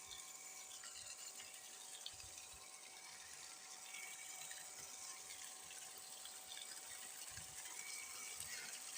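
Water running steadily through a village stream, a continuous broadband rush with a faint tonal hum, heard alone at a moderate, fairly close level.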